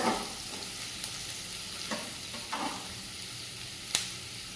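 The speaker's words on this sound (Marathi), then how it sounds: "त्यामध्ये हा मी अर्धा कांदा टाकून घेत आहे त्यामध्ये टाकून घेऊया अर्धा कांदा" Half an onion tossed into hot oil with garlic and cumin gives a faint, steady sizzle, broken by a few soft clinks and scrapes of stirring, with no talk.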